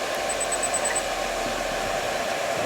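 A mini lathe with a brushless motor turning slowly, giving a steady, even whirring hum with a faint high whine, running alone at a constant level throughout.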